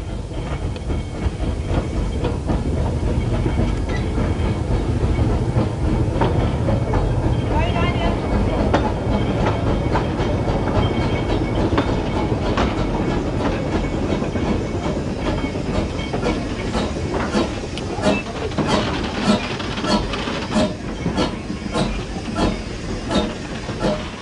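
The Rothornbahn, a Swiss steam mountain railway train, runs with a continuous rumble, hiss and clatter, loud and close throughout the clip.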